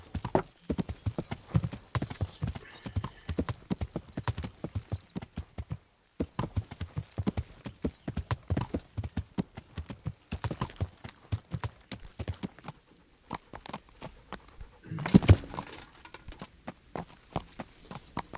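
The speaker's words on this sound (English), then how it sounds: "That's not a path for any horse, but Yenda can do it" A horse in Kingdom Come: Deliverance clip-clops along a steep path with a steady, close rhythm of hoofbeats, briefly pausing, and a louder burst of movement near the end.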